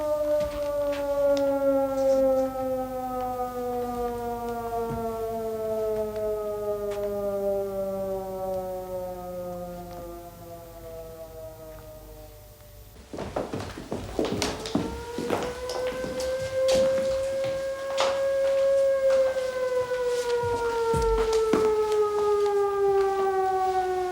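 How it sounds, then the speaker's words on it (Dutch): A loud factory siren wails continuously, its tone slowly falling, then it restarts and rises again with some clattering noise in the background. "De sirene van de fabriek."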